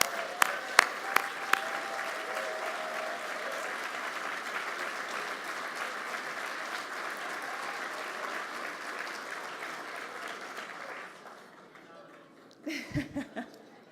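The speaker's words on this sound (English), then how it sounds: "Let's give them a round of applause." Dinner guests at a call center awards ceremony applaud honored organizations, sustained crowd clapping with a few close sharp claps at the start, thinning out after about eleven seconds before a brief burst of nearby voices and laughter.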